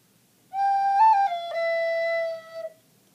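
A recorder plays the second bar: a bright, pure tone stepping through a few held notes with a brief upward flourish, then one long sustained note, played alone and close.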